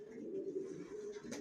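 Janssen-line racing pigeon squabs coo softly and close by, giving one continuous low, wavering murmur with a faint flutter of movement near the end.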